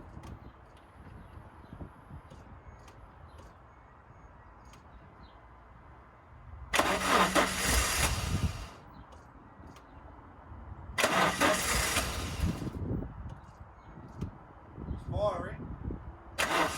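The engine of a wheelchair access vehicle cranks and fires in two loud starting bursts after a quieter stretch, then settles toward idle, with faint talk in the background.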